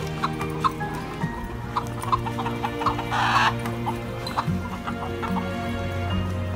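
Chickens on a farm cluck in short, scattered bursts, near and fairly loud, with a brief rustling flurry partway through.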